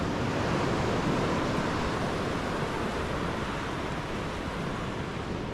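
Waves roll onto an empty Konkan coast beach, producing a constant loud wash of surf and wind that holds evenly throughout, with no talking.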